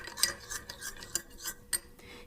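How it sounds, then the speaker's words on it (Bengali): A spoon stirs salt into yogurt in a bowl for a Bengali doi ilish (yogurt hilsa) dish, giving soft scraping strokes with a few light clinks of metal on the bowl, close and quiet. "নুন দিয়ে নাড়িয়ে দেবো"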